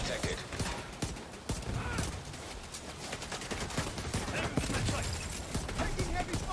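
Enemy gunfire in The Division 2 rattles in dense, rapid bursts of shots, loud and continuous, under voices of players talking.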